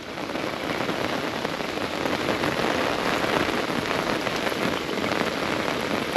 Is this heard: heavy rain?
yes